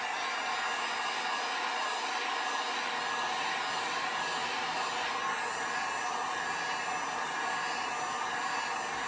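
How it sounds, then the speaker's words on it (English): A steady, loud rush of blowing air from a heat gun on high, warming resin on coasters, with a constant motor hum, unbroken from start to finish with no voices. "I am going to use the heat gun to warm it up and pop the bubbles."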